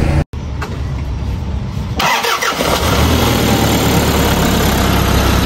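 Isuzu 4HL1 turbo diesel engine in a truck with an intermittent no-start fault, cranking briefly and then catching to a steady, loud, close-up diesel idle clatter.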